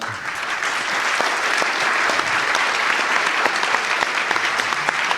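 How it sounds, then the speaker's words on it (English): An audience applauds steadily at a Godot Fest fireside chat panel, a dense, even wash of clapping that holds at full strength for about five seconds with no talk over it. "A round of applause before..."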